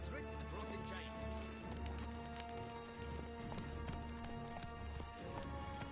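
Roach the horse gallops in Witcher 3, with steady rapid hoofbeats clip-clopping loudly throughout over a dense bed of game music and ambience.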